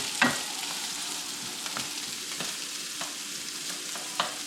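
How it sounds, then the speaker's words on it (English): Guanciale frying in a pan for pasta all'Amatriciana, a steady close sizzle with a few soft stirring clicks and scrapes, no one talking. "this guanciale is kind of shrinking because that fat is melting and it's getting a little bit of color"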